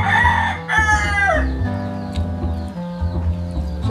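Chickens outdoors, with a rooster crowing loudly up close at the start, followed by repeated clucking and fowl calls that continue for several seconds without talk.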